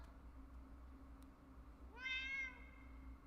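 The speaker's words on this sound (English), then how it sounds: "I hear a cat." A cat in an indie game lets out a single clear meow, brief and distinct, over a faint low hum.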